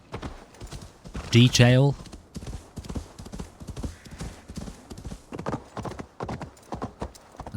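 Horse hooves clip-clop steadily in the video game Assassin's Creed Valhalla, a regular trotting rhythm of close, crisp hoof strikes, with a brief horse whinny early on and a short spoken word.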